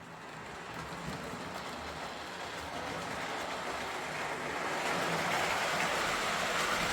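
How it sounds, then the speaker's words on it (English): A Lionel toy electric train runs along its track with a steady whirring rumble and faint rattling that grows gradually louder as it picks up speed. "Let's get going again."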